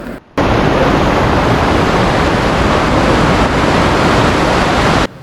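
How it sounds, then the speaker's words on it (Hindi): Loud ocean surf on a Goa beach, a continuous roaring wash of breaking waves that fills the whole stretch after a brief quieter start, with no talking. "आप भी समुद्र की आवाज़ सुनिए, देखिए समुद्र की आवाज़ कितनी तेज़ आती है।"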